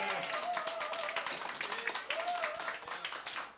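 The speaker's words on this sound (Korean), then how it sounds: "우리 귀한 교회 위해서 박수를 하는 영광 돌립니다." Church congregation applauding at a year-end evening revival gathering in Yongin, steady clapping from many hands throughout, moderately faint, with a voice carrying over the top.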